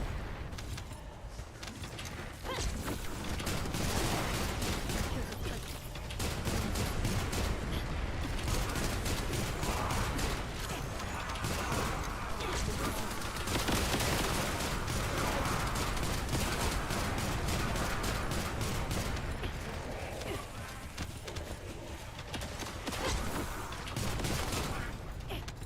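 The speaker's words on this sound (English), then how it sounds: "Rocket launcher gameplay." Dense, continuous combat fire in The First Descendant video game includes rocket launcher shots and blasts, forming a steady loud barrage of rapid detonations and impacts that runs without a break.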